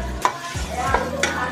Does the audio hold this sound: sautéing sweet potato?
yes